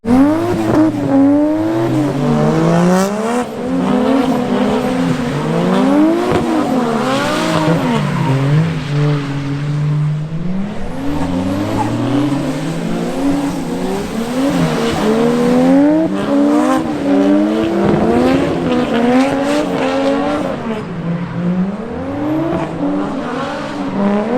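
A car drifts in Japan with long, sweeping tire squeals rising and falling over a steady engine roar, sustained and loud throughout.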